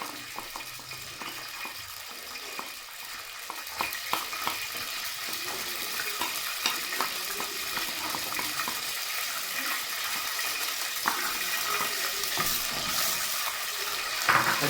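Ground garlic and ginger masala frying in a pan gives a steady close sizzle with scattered small pops and crackles, continuous across the whole stretch with no voices.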